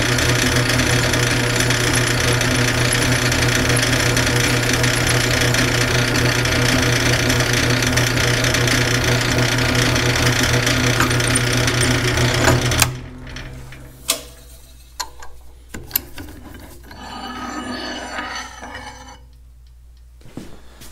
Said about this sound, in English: Let's get it drilled.